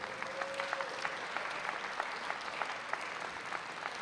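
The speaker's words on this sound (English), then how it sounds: "Eric Botcher started clapping before I even finished the word containerize." Applause from an audience at a Manhattan borough address, a steady patter of many hands clapping at moderate distance, held evenly throughout with a brief tone early on.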